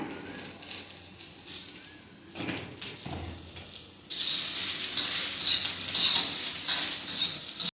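Green chilies, cumin and coriander stir-fried in a pan for Kolhapuri thecha, with a stirring scrape and soft sizzle that turns to a loud, steady hiss of frying partway through, with no talk over it.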